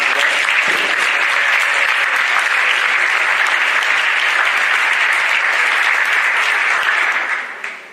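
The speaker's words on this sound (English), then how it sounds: "let's give them a round of applause" Sustained, loud audience applause at a high school signing day for young women athletes in a gym, a dense even roar of clapping that fades out at the end.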